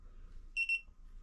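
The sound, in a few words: electronic beep while tightening to torque on a GT86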